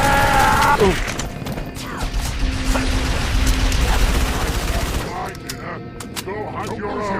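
Turret gunfire in the video game Halo 3 ODST, a dense, loud burst of rapid shots and clattering impacts that thins out into scattered cracks and mechanical clanks toward the end.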